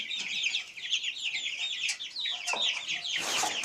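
Adult chickens cluck and chatter continuously at close range, with a few louder squawks near the end.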